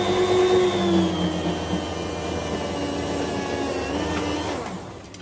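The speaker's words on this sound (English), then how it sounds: "I'm going to continue slicing this because I'm about to cook myself some ham" Electric meat slicer cutting through a joint of ham, a steady loud motor whine with humming tones that holds throughout and eases slightly toward the end, no talking.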